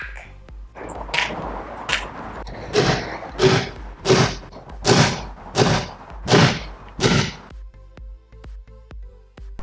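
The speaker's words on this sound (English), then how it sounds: "Baseball bat attack!" A baseball bat repeatedly smashes into a replica Captain America shield, about eight loud, evenly spaced thwacking thuds in a steady rhythm, close up with no talk.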